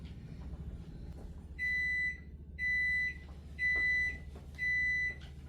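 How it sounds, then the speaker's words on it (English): A kitchen timer set while baking chocolate chip cookies beeps four times in an even rhythm, clear high tones standing out over a faint low background hum. "There's the timer I set earlier."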